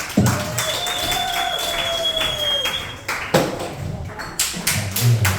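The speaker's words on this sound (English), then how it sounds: "Clap it up for Chris Horn." Audience applause and scattered clapping at an open mic comedy night fill the room for several seconds, close and uneven, with a faint ringing tone underneath and a brief dip before the clapping resumes.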